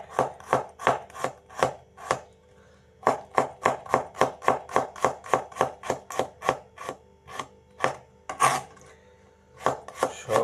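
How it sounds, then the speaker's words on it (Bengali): A knife slices garlic thinly on a cutting board in quick, steady runs of crisp chops, with a couple of short pauses between bursts, close and clear with no talking. "রসুনগুলো একটু চিকন চিকন করে কাটলাম।"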